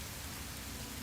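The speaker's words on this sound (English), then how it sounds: "The only question now is how long is it going to rain for?" Rain falling in the Sheltered 2 video game, a steady, soft hiss of rainfall on surfaces that stays even and faint throughout the short clip, with no voices.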